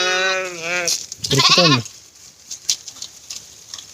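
Two loud, wavering bleats from goats close by, one after another, followed by quieter shuffling and outdoor noise.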